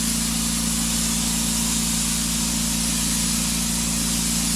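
A Vital Oxide electrostatic sprayer releases disinfectant in a continuous, loud hissing spray over a steady motor hum, with no pauses.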